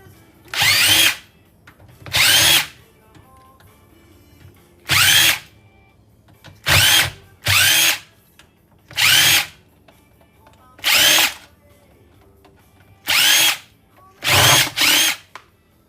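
A cordless power drill backs screws out of electronics being scrapped for e-waste, whirring in about ten short loud bursts separated by pauses with faint handling in between.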